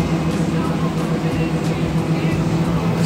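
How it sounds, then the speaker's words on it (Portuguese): A tractor or corn harvesting machine works steadily nearby during a corn harvest, giving a continuous loud engine drone with a low tonal hum throughout, under talk. "O Paulo tá lá no trator"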